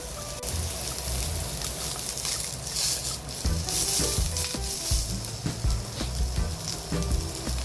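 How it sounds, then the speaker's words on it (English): Char siu pork sautéing in its own rendered fat, a dense close sizzle with crackling pops and occasional scraping and stirring, steady in loudness and without talking. "Sauteed char siu."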